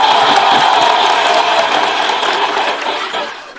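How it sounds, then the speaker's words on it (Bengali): An audience at a women's event bursts into strong, continuous clapping with some cheering mixed in, holding steady before easing off near the end. "ইমোশনসের জন্য বটে জোরে হাততালি"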